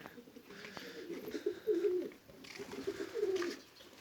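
Pigeons in a coop give soft, repeated throaty coos in two short bursts over faint background noise.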